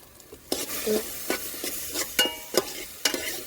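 Crushed coconut with ginger frying in a pan in a Kerala village kitchen, stirred in a few sharp scraping bursts over a steady low sizzle, close and fairly loud.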